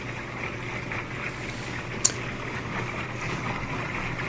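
A KitchenAid top-loading washing machine made by Whirlpool, repaired after failing to agitate or spin, churning water during its agitation cycle as a steady sloshing hum with low motor drone and one brief sharp clack midway.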